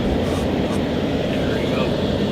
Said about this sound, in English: they're bringing in a helicopter